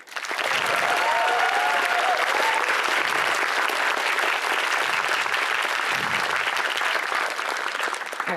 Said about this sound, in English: I'd like a round of applause for them.